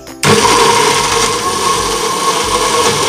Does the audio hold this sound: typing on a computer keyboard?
no